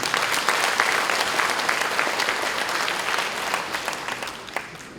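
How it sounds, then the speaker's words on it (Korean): Applause at a Korean Confucian leaders' convention in 2017 fills a large hall, a dense, continuous clapping from a big seated audience that stays strong throughout before easing slightly toward the end. "다시 한번 성원의 박수 부탁드리겠습니다"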